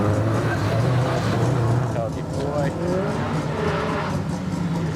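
Subaru WRX Impreza race car driven by Nathan Robbins on a lakeside hillclimb course, engine roaring steadily and fairly close, with a commentator talking over it throughout.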